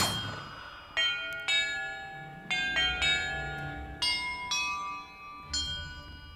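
Bells chiming in Hogwarts Legacy, single clear bell strikes at irregular intervals with ringing tones that decay between hits, resonant and fairly close.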